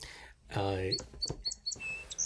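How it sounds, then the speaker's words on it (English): Song sparrow song, a short phrase of bright chirps and a buzzy trill that blend into a voice talking over it, moderately faint. "the song, which is generally recognizable as song sparrow and yet somewhat variable from subspecies to subspecies"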